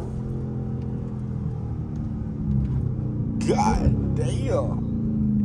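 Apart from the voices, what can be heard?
Dodge Scat Pack 392 car engine while driving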